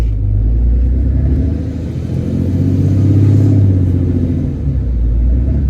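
Deep, steady engine rumble from a truck's stock exhaust at low revs, continuous and fairly close, swelling slightly midway with no talking over it.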